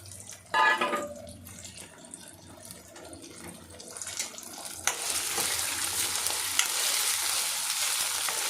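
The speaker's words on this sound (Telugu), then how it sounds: "చూసారా రొయ్యలు కూడా మగ్గిపోతున్నాయి" Prawns fry in a pan while being stirred, with a sharp clatter early on and then a loud, steady sizzle that swells and continues to the end, with no talking.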